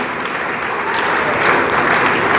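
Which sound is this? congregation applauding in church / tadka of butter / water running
congregation applauding in church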